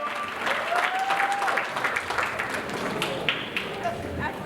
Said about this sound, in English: Can we have huge round of applause for Cinema Studios?